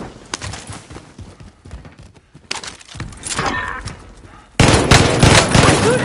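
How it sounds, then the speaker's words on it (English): Gunfire in a first-person shooter video game, with bursts of rapid shots and crackling impacts throughout, swelling into a louder, denser volley near the end. "Somebody's firing on us."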